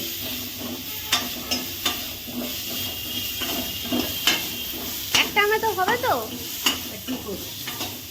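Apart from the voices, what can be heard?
leafy greens (shak) frying and being stirred in a pan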